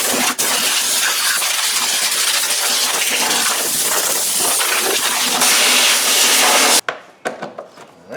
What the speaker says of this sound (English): I'm gonna take the blow nozzle. We're gonna blast a lot of this dirt and junk out of here